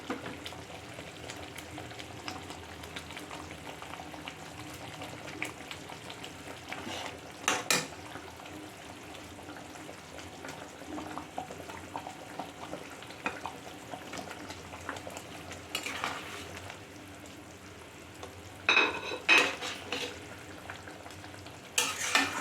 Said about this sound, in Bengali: এই যে দেখুন গ্রেভিটা আমার কি সুন্দর ফুটছে